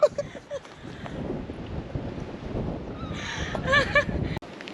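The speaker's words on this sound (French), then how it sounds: "C'est très venteux ici." Gusty wind buffeting the microphone outdoors near Esperance, Australia, rumbling low and uneven, with a few brief sharp knocks and a short whistling tone near the end.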